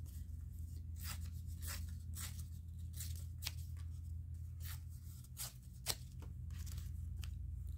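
Soft papery rustling and shuffling, with light crinkles and scrapes repeating close by over a low steady hum.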